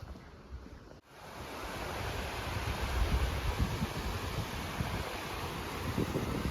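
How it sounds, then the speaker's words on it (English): Floe Creek rushing along a mountain trail, a broad, steady roar of flowing water close by, with a brief cut near the start and wind buffeting the microphone, no voices. "This is Floe Creek."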